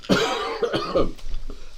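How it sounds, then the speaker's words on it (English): Several harsh coughs in a short burst, close by, with a throat-clearing quality and no talking. "Sorry, I might have to cough."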